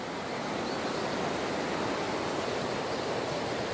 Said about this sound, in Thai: เนก็อยู่กับน้ำตกนะคะอีกฝั่งหนึ่งก็เป็นน้ำตกค่ะ